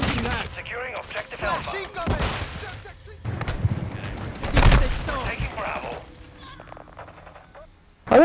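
Gunfire in Call of Duty: Modern Warfare II, repeated bursts and rattling shots spread through a busy firefight, with voices talking over the action at times.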